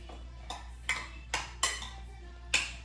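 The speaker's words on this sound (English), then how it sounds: "And stir up all the oil and the olives and the garlic" A utensil stirs pasta with olive oil, olives and garlic in a pan, making six sharp metallic scrapes and clinks at irregular intervals, close by and fairly quiet between strokes.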